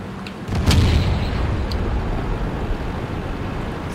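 A tank gun fires in World of Tanks, a single loud boom with a sharp crack that rolls into a long, sustained rumble as the blast decays over several seconds, with no talk over it.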